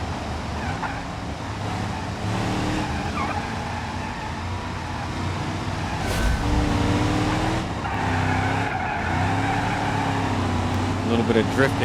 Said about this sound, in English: A little bit of drifting there.